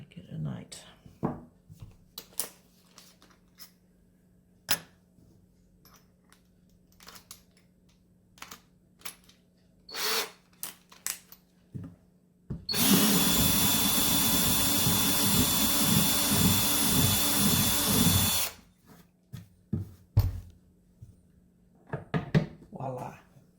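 Power drill widening a hole to 8 mm in a Chinese diesel heater fuel tank, one sustained loud whine of about six seconds, with quiet clicks, handling noises and brief talk before and after.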